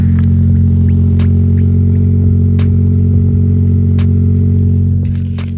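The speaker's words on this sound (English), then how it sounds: "Let me get you guys a little exhaust note here." Steady idle burble from the exhaust of a Nissan 370Z Nismo fitted with a Toyota engine, a loud, even low drone held close with faint clatter on top, easing off slightly at the very end.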